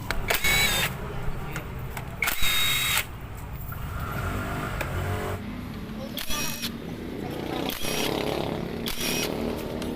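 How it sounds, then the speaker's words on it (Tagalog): Power tool work on the magneto cover of a Yamaha YTX 125 motorcycle, with broadband bursts of a drill or impact tool backing out bolts against steady workshop noise and some talk. "natanggal na natin yung bolt sa may magneto cover"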